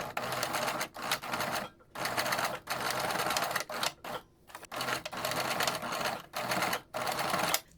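A sewing machine stitches fabric face mask pieces, running in about eight short, steady bursts separated by brief pauses, close and fairly loud.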